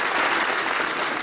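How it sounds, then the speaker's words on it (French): An audience at a Cameroonian football awards ceremony applauds with loud, dense, continuous clapping that fills the whole moment. "Vous pouvez les applaudir tous, il n'y a aucune distinction pour nous."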